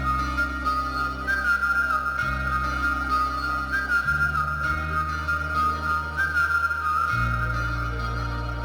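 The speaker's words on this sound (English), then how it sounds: "It even has a cliche pop whistling intro and everything." A pop-style whistled melody opens a metalcore song, a clear bright tune carried over a steady bass and synth backing that shifts chords every couple of seconds.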